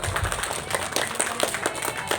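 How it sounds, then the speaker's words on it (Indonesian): Applause from a crowd at a Qur'an recitation school graduation celebration, dense overlapping claps sustained throughout at moderate loudness, with a little background voice activity. "Tepuk tangan semuanya."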